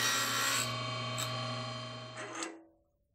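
A file rasps steadily to cut a notch into the back of a part so it clears a nut, a close continuous grinding scrape that fades out near the end, with no voices.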